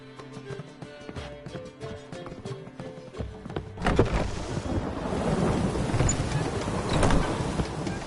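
A thunderstorm in The Witcher 3 breaks in with a loud thunder crack and a steady hiss of rain, after a stretch of horse hooves clopping under game music.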